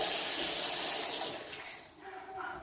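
Tap water runs steadily into a sink while a small child's hands are washed, a continuous close splashing hiss that thins and eases toward the end.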